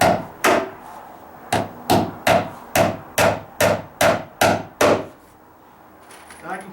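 Nails are hammered into a thick joist hanger during dry-rot deck repair: about a dozen sharp, ringing hammer blows at a steady, even rhythm, close and loud, followed by a quiet pause.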